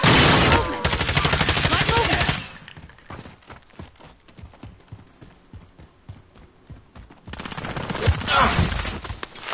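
Gunfire in Call of Duty Warzone: a loud, dense burst of shots up front, then sparse quieter cracks, then another loud heavy volley near the end, with players chatting over it.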